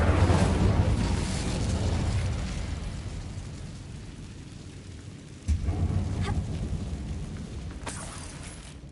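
An Incendio fire spell cast in Hogwarts Legacy inside an abandoned mine, a loud roaring whoosh of flame that fades, then a second sharp burst with crackling and rumble trailing off.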